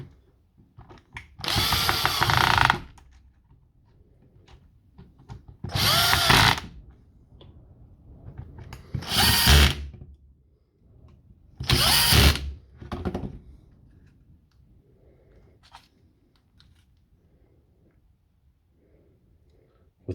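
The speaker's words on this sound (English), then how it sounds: "Get the top back on and see if the grease gun goes any better." Battery-powered grease gun running after a control board repair, four loud motor bursts of a few seconds each separated by quiet pauses, close by with no talk.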